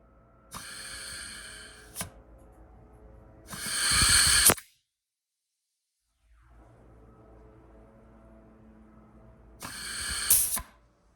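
Compressed air hisses into the fourth-gear servo of a GM 4L60E automatic transmission during a bench rebuild, two loud sustained bursts each a second or two long, separated by quieter handling noise and a stretch of silence.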